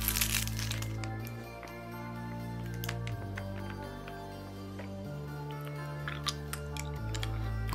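A hard transparent mint candy is bitten and crunched: scattered crisp cracks and crunches up close over a low background hum.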